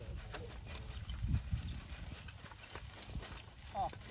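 Horse walking while harnessed to plowing equipment around a garden, with soft hoof clops scattered through a few seconds and people talking quietly over them.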